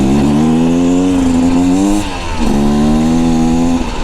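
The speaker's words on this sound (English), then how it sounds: "I'm gonna say this is dual sport riding on this bike" A Beta Xtrainer dual sport motorcycle engine drones steadily up close on a mountain pass road, its pitch dipping and climbing again as the rider eases off and accelerates.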